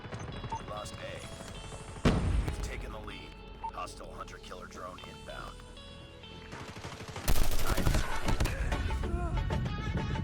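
Automatic gunfire from a killer drone in the mobile shooter game Call of Duty Mobile, with bursts of shots and explosive cracks, louder from about two seconds and again near the end, under constant game noise and talk.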